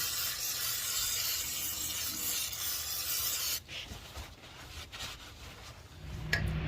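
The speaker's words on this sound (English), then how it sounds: "Just gonna clean her up with a brake clean." Brake cleaner sprays in a steady, loud hiss over freshly fitted pads and rotor on a 2003-or-later Honda Pilot, MDX or Odyssey brake job, stopping abruptly partway through before a few quieter bursts and handling noises follow.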